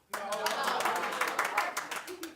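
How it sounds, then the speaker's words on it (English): Audience members at a talk show clap briefly, a short scattered burst of handclaps that starts sharply and thins out within about two seconds. "Clap if you do."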